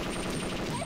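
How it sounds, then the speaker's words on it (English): Rapid, unbroken automatic weapon fire in the video game Perfect Dark as walls are shot down, a dense, steady rattle lasting under a second. "we have to shoot these walls down"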